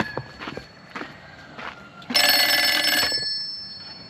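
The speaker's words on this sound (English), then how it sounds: "I go answer that phone call." A telephone rings once in a single bright electronic burst lasting about a second, preceded by a few soft footsteps in a quiet room.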